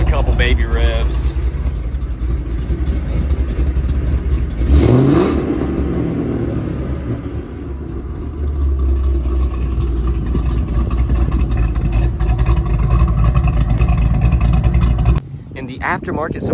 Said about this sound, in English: Give it a couple baby revs.